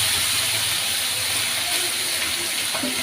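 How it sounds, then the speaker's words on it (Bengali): Marinated chicken pieces dropped into hot oil in a pan for a home-style Bengali chicken kosha, giving a steady broadband sizzle and hiss that runs throughout, close and fairly loud, with no talking. "যে চিকেনটা ম্যারিনেট করে রেখেছিলাম সেই চিকেনটা দিয়ে দিচ্ছি"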